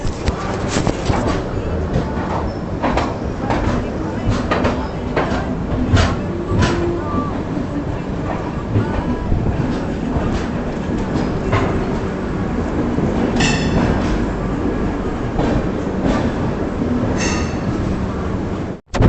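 The Yoga Express, Ahmedabad to Delhi, departing Marwar Junction in India: loud rumbling carriages with rhythmic wheel clatter and occasional metallic squeals, heard close from on board, with voices in the background.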